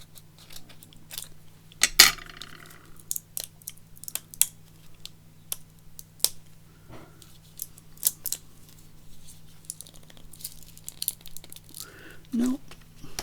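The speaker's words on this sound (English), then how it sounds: "Let's use some scissors." Scissors snip repeatedly through paper at a crafting table, crisp close cuts in irregular bursts with soft rustling between them.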